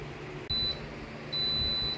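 An electric pressure cooker's done alarm gives two high, steady electronic beeps, one short and one longer after a brief gap, over faint kitchen background noise.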